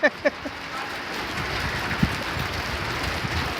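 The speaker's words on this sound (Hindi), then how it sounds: "ये लो होले की बारिश।" Hailstones fall in a storm in Tabuk, Saudi Arabia, a dense steady patter with a few sharper hits at the start, heard outdoors at moderate level.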